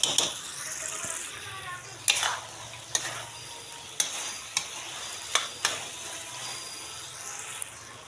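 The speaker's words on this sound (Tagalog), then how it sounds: "ilagay na natin yung ating menudo sauce. Yan, haluin natin." Menudo sauce is stirred into sizzling meat in a pan, with a steady frying hiss and repeated sharp scrapes and clinks of the utensil against the pan, close and continuous.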